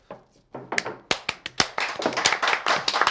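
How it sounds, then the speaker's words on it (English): Scattered claps from a small studio audience at a talk show season premiere, starting with a few isolated hand claps and building into denser, close applause. "Applaud if you'd like."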